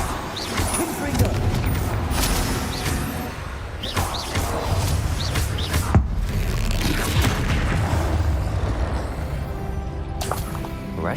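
Repeated fiery spell blasts in a fantasy wizard game, several booming explosions with whooshes and crashes spread across the stretch, layered over game effects and a voice calling out spells.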